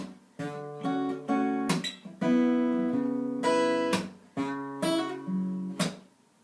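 An acoustic guitar plays a short riff, plucked notes with hammer-ons, phrases ringing out and pausing, played alone and close.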